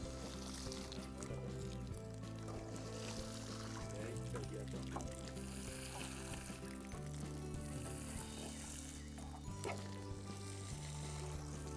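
Water mixed with worm-farm vermiliquid poured onto plants, a continuous splashing, trickling flow at low level with bubbly, sizzle-like texture throughout.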